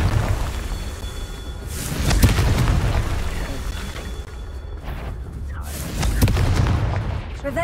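Confringo fire-blast spells going off in Hogwarts Legacy, with booming explosive bursts landing over a steady bed of game ambience and music. Several impacts are spaced a few seconds apart, and a voice calls out spells in between.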